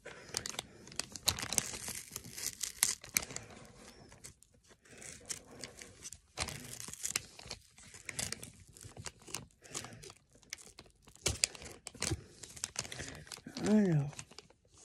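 Paper tearing and crinkling as a sticker or paper piece is peeled off, with bursts of ripping and rustling close up, interspersed with someone speaking French.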